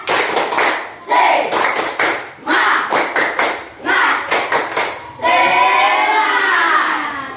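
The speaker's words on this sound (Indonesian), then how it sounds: "Sekali lagi tepuk semangat." Schoolchildren and their teacher in an Indonesian classroom perform a rhythmic spirit-clapping chant, loud close bursts of patterned claps alternating with chanted voices, ending in a long sustained group shout.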